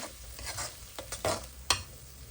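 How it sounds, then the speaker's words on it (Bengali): Ginger garlic paste frying in a pan, a low sizzle with several quick scraping stirs of a spoon and a sharper clink near the end, close but fairly quiet, with no voices. "এইখানে হচ্ছে আমি একটু আদা রসুন বাটা দিয়ে দিলাম"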